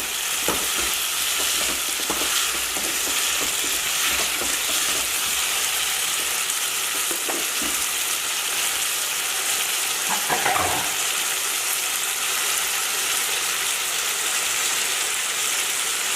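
Onions sautéing in a pan for a Kumbakonam-style onion sambar, a steady dense sizzle with occasional stirring scrapes and a brief louder crackle near the end, continuous and close.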